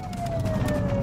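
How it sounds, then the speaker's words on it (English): A police car siren wails during a chase, one steady tone over a low engine rumble in a short burst. "She's running with the sirens too."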